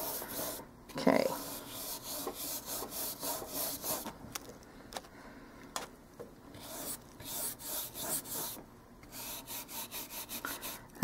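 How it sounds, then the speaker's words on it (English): Oil paint being spread across canvas with the chisel edge of a brush while blocking in a bell pepper, heard as soft, close, repeated scratchy rubbing strokes in an irregular rhythm, with no talking. "I'm using the chisel edge of the brush to get around the edges of my pepper. And just go ahead and spread that out."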